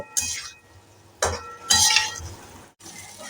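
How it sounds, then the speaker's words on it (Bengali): Pointed gourd is stirred into fried spice paste in a pan, giving several separate metallic scrapes and clinks of a spoon against the pan over a soft frying sizzle. "এবার আমরা পটলগুলোকে ছেড়ে দেব পটলগুলোকে ছেড়ে এই মশলার সঙ্গে সুন্দর করে মিশিয়ে দেব"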